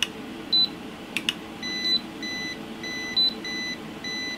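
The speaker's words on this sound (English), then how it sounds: "So a 600 is beeping to say it's over range." A Kaiweets ST600 multimeter beeps over range while testing near its 600-volt maximum, sounding a steady series of short, evenly spaced electronic beeps close up, with no talking.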